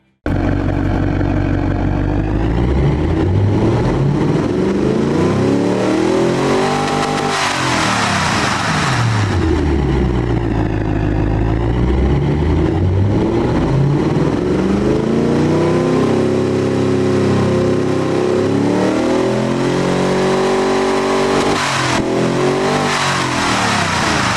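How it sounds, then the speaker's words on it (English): A video game V8 engine modeled on a Ford Modular V8 revs repeatedly, its roar climbing and falling in long sweeps, loud and continuous with a throaty rumble throughout. "let's get to hear what this wannabe Ford Modular V8 engine sounds like right now"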